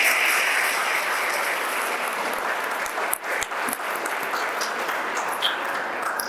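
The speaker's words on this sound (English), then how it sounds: "Can we have a big round of applause?" A crowd at a school valedictory ceremony at Silver Oaks School breaks into sustained applause, a dense, even roar of clapping that stays loud for several seconds without letting up.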